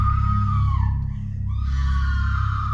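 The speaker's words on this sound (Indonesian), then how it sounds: "terdengar teriakan ibunya di dalam yang sepertinya sedang disiksa" A woman screams inside a house during a film scene, a loud, sustained wail that dips briefly midway and then rises again over a low rumbling background.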